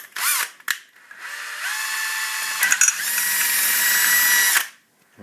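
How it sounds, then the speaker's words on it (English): A power drill runs back through a rivet hole while a car's quarter light is assembled. Two brief bursts come first, then a sustained high whine that climbs slightly before it cuts off abruptly. "It's worth just running the drill through again just to be sure."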